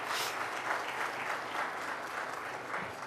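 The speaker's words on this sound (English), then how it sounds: "Can we have a warm round of applause, please?" Audience applause welcoming India's External Affairs Minister S. Jaishankar at a televised interview event, a steady, dense wash of clapping sustained throughout without talk.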